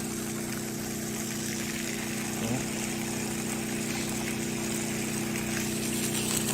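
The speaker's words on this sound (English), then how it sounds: "pitch of the generator changing from time to time, which is telling me that the pump is working a little harder now and then" A generator drives a pump drawing muddy water from a well during a well test. The engine drones steadily with a constant hum, and its pitch wavers slightly now and then, close and without talk.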